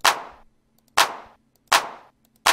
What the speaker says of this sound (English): What a nice clap.